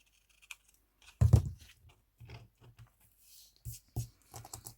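Scissors clip the corner off a paper tab for a mini file folder pocket, giving a few short, close snips and paper rustles amid quiet pauses.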